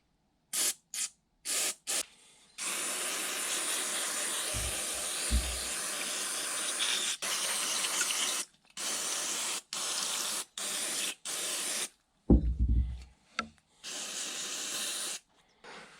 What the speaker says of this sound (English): all of these parts here are soaked in simple green, so they need to be rinsed off